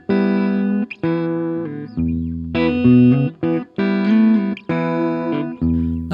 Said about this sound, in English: I'm going to start off with a clean tone.